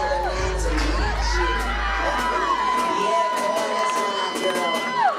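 An arena wrestling crowd cheers and whoops for a wrestler called the Black Stallion, with loud, sustained shouting and high excited yells filling the whole stretch.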